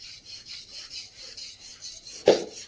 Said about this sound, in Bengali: তার আগে ওনার বাটালি আর কি কি আছে যন্ত্রপাতি, সব নাম জানি না, সেগুলো একটু ধার দিয়ে নিতে হয়, সেই কাজ করছেন উনি